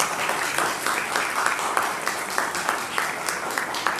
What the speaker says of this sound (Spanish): Así que un buen aplauso para Pablo también